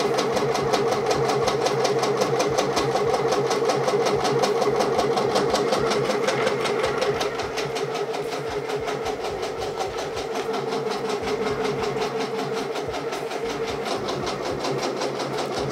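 An embroidery machine stitching a design onto a sweatshirt, a fast steady mechanical chatter of needle strokes with a constant motor hum, close and continuous.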